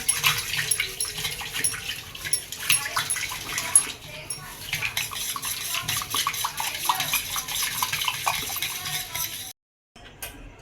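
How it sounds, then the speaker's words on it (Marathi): Khichdi being mixed with a wooden churner in a pot, a close rhythmic swishing and sloshing with light clatter, a voice talking over it before it cuts to silence near the end. "आणि याला छान मिक्स करून घेऊ रवीने"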